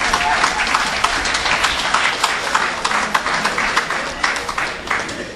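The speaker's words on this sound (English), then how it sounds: "Give them a round of applause." Audience at the opening ceremony of a rehabilitation center applauding, a dense, steady clatter of many hands with crowd murmur, close and sustained.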